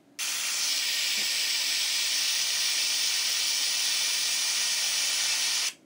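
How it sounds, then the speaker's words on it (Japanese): A waterfall pours in a loud, steady broadband rush that starts abruptly, holds constant for several seconds and cuts off at the end. "これ滝の音です。"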